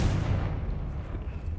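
A Confringo fire spell is cast in the game Hogwarts Legacy, sounding as a deep, booming blast that rolls on with a low rumble, loud and close, with no talking over it.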